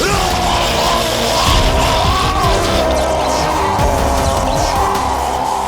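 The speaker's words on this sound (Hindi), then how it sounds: "ये चीखें सुनाई दे रही हैं।" Several people screaming and yelling together in a chaotic scene, loud and continuous over a dense, rumbling background with crashing noise, with no clear talk.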